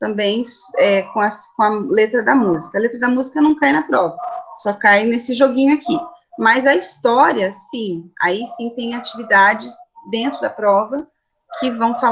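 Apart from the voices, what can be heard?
No everyday noises stand out.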